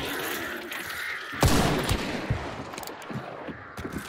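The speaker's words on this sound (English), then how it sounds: "Are they shooting at you?" Gunfire in the Hunt: Showdown shooter game, with one sharp, loud close shot cracking out of a steady ambient bed, followed by a few fainter, scattered distant shots.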